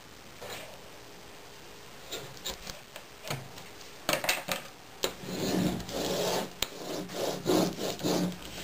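Tape being pulled and pressed along the spine of a 3-ring vinyl binder, with scattered rubbing and tearing noises that grow busier and louder toward the end, close by and without speech.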